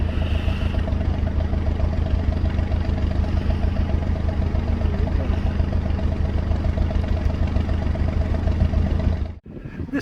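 A smoky diesel engine drives a narrowboat under the strain of pulling, with a loud, close, steady chugging throb and regular pulses that briefly dip just before the end.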